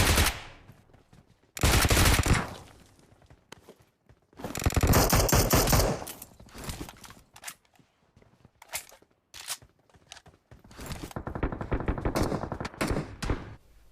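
Bursts of automatic gunfire in the mobile battle game PUBG Mobile ring out in several loud volleys separated by quieter gaps, with scattered single shots and faint footsteps between them.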